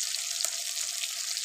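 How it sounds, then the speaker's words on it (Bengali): Fish frying in hot, bubbling oil, a dense continuous sizzle heard up close with one brief sharper pop, with no talking. "এই মাছ ভাজা করে নিব, এরপরে তরকারি রান্না শুরু করে দিব। একদম তেলে টকবক করে ফুটতেছে"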